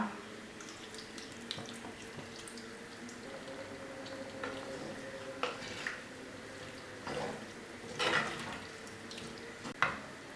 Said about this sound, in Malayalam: നമുക്കിതിലേക്ക് 1/4 കപ്പ് വെള്ളം ചേർക്കാം